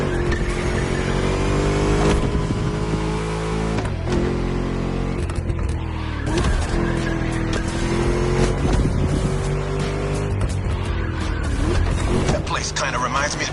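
A V8 engine in The Crew Motorsports revs hard and continuously through a race lap, loud and close, rising and dropping with gear changes and occasional tire noise, with no talking.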